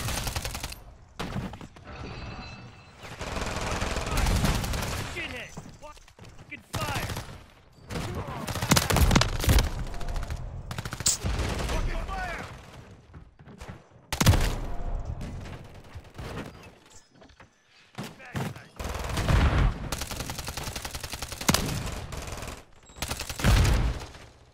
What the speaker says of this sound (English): Is everybody gonna be using shotguns?